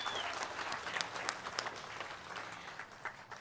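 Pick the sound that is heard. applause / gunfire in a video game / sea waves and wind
applause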